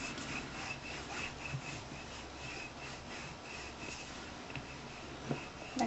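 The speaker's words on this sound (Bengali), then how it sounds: "আমি একটা রুটি বেলে নিয়েছি, এই যে, আর একটা সেকেন্ডটা বানাচ্ছি।" Flatbread dough of wheat flour and rice flour being rolled out, giving a steady soft rubbing and scraping texture with a few faint knocks, close and continuous, no talking.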